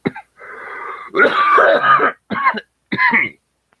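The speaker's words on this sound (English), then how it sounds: "I'm gonna try not to cough now, but it ain't working." A person coughs and clears their throat in a series of about four harsh, rough bursts separated by short pauses, close and loud.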